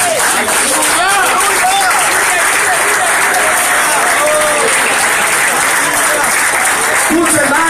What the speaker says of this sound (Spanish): Denle un aplauso fuerte a papá.